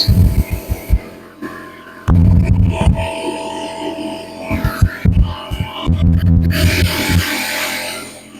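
A small air compressor runs in a workshop while a motorcycle gas tank is being restored, giving a low throbbing hum with irregular pulsing bursts and brief dips, fairly loud and close.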